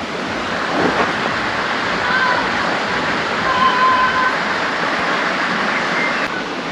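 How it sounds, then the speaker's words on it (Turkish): A small stream flows beside the old town walls of Obernai, giving a steady, close rushing wash of water with no break, and someone speaks over it. "Hemen burada bir küçük bir nehircik akıyor."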